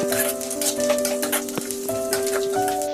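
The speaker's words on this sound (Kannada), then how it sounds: "ಇನ್ನೊಂದು ಐದು ನಿಮಿಷ ಫ್ರೈ ಮಾಡಬೇಕು ಎಲ್ಲ ಚೆನ್ನಾಗಿ ಫ್ರೈ ಆದರೆ ಟೇಸ್ಟ್ ಚೆನ್ನಾಗಿ ಬರುತ್ತೆ" Masala fries in a pan for poha chitranna (avalakki chitranna), a steady crackling sizzle running throughout, with a sustained tonal hum layered over the frying.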